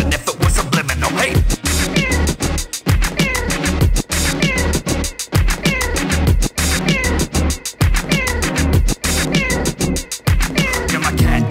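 A cat meows repeatedly in a music track, the sung-like meows rising and falling over a loud, steady beat with sharp rhythmic hits throughout.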